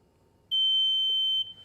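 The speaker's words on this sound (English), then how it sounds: "That's a really loud beep" Tesla Model Y power frunk (V5 kit) sounds a single loud, steady high-pitched reset beep lasting about a second, alone over a quiet background.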